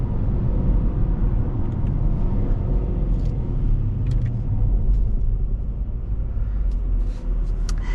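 A 2016 Jaguar F-Type R AWD under way, its engine and exhaust giving a deep steady rumbling burble with faint crackles toward the end, heard from inside the car with no talking.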